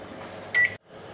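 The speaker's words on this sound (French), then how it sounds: "Alors maintenant je vais faire fondre au micro-ondes" A microwave oven hums steadily while melting butter at full power, then gives a single loud completion beep before falling silent.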